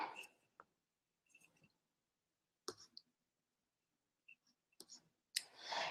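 Sparse, sharp computer mouse clicks, a handful of quiet single and double clicks separated by silence, close and faint.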